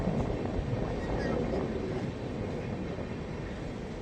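Passenger train on an Indian rail journey toward Kerala, heard from inside as a steady, loud rumble of the wagon rolling along the track with a continuous broadband roar and light rattling throughout.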